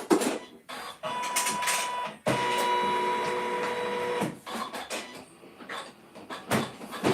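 A Janome M17 high-end embroidery machine, reportedly acting up, stitches a pumpkin lantern in the hoop. It makes whirring, buzzing mechanical runs broken by short pauses and clunks, loud and close.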